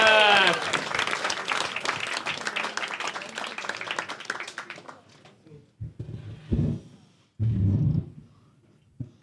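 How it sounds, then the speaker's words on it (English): A comedy club audience at Hot Water Comedy Club claps and cheers loudly, the applause slowly fading over several seconds until a few scattered claps and murmurs are left. "Start clapping."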